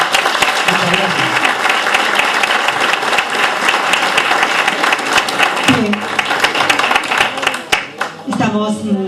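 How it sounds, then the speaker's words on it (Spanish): Strong audience applause in a parish hall after a lecture, loud dense clapping lasting several seconds, with a brief voice and some shuffling emerging as the clapping thins near the end. "Por favor, otro fuerte aplauso para ella."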